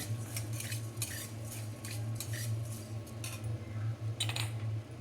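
Coriander seeds dry-roasting on a pan for gongura chutney make scattered light clinks and rattling scrapes as they are stirred, over a low steady hum.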